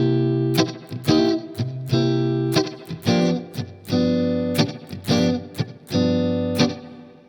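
Electric guitar with a slightly driven, effected tone plays a blues shuffle rhythm, bright chord stabs in a bouncing pattern, loud and close, with no speech.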